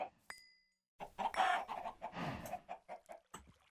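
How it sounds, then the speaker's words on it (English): A chicken in a Minecraft Skyblock modpack gives a few short clucks and squawks, moderately loud and close, separated by brief pauses. "So this is just your standard chicken."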